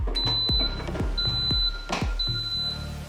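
A series of high electronic beeps from an electric pressure cooker, some held long, sounds over soft dull knocks and low rumbling; close and fairly loud.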